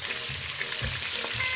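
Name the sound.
chicken frying and sizzling in a pot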